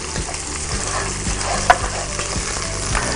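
Steady frying sizzle of peppers in a pan with repeated stirring scrapes and a brief clink, no voices.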